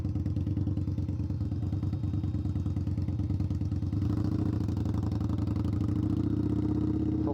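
A custom tuned Indian Scout Bobber motorcycle rumbles along at a steady, loud pulse under its rider. The engine note thickens and rises partway through as the throttle opens.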